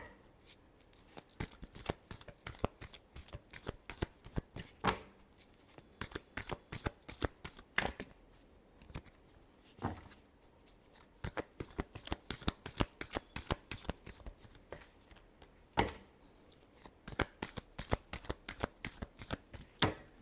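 Tarot cards are shuffled in repeated bursts of crisp riffling and tapping, loud and close, with short pauses between rounds and no talking.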